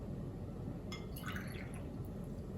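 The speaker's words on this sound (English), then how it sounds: "So 3 ounces of ginger beer." Ginger beer pours into a glass, a soft fizzing trickle with a few bright splashy drips partway through, quiet and close against a low background rumble.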